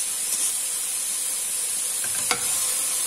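Rice stirring and frying in a pressure cooker for vegetable fried rice, a steady loud sizzle and hiss with a few scraping clinks of the spoon, no voices.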